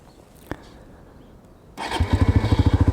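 A short click, then a Suzuki GSX-R125 ABS motorcycle engine cranks and catches at about two seconds, settling into a loud, steady, throbbing idle.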